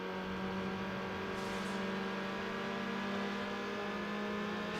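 A car engine in the Need For Speed Underground racing game, played on a PS2, holds a steady high-revving drone with a sustained tonal whine that shifts slightly in pitch and a brief burst of hiss near the middle.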